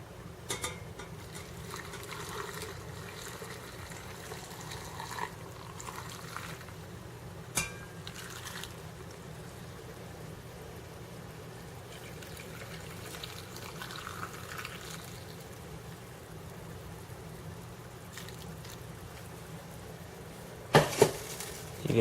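Jars of preserved peppers with slits in them boil in a water bath, giving a steady low bubbling and simmering roar with a few faint clinks.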